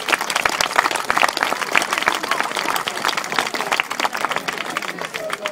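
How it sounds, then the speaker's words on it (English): Crowd at a horse stud open day gives Beth a loud, enthusiastic round of applause, dense close clapping that stays strong throughout, with a few voices mixed in. "I think everyone should give her a bloody great big round of applause."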